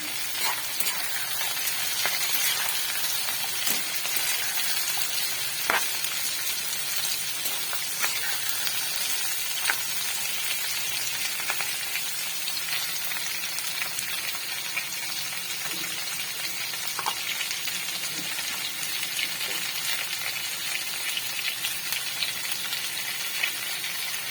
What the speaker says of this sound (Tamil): கட் பண்ணி வச்ச நூல் கொள்ளையும் சேர்த்து நல்லா வதக்கிக்கலாம்